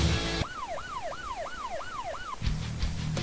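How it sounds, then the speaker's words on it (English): A police car siren wails in a rapid rising-and-falling cycle, about six sweeps in under two seconds. It is clear and fairly close and cuts off abruptly, with louder background noise before and after. "Fire up the siren."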